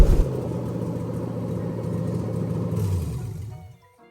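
An LS V8 swapped into a BMW idles after its first start-up, a deep, loud, steady rumble lasting a few seconds before it shuts off and goes quiet.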